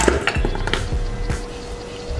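A kilo of meat goes into a cooking pot for bone soup, giving a few close, dull thuds and clinks of meat and metal in quick succession, with no talking.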